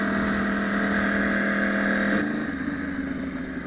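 A 2014 Yamaha YZF-R1 1000cc supersport motorcycle holds a loud, steady engine drone while riding, then the pitch drops and the note eases slightly near the end.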